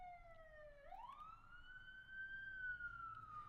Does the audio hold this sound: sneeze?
no